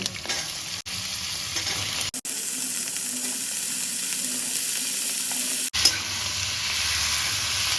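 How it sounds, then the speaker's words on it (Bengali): Potatoes and vegetables fry in a pan with a steady, loud sizzle that drops out briefly a few times. No voices are heard. "এর মধ্যে ওই আলুগুলো দিয়ে দেবো আলুর সাথে বন্ধুরা সবজিটাও দিয়ে দেব"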